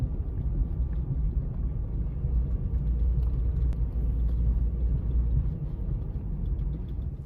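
A Titan-swapped Nissan Frontier driving off the road onto snow at a campsite, giving a steady low engine rumble with wind buffeting the microphone and no talk.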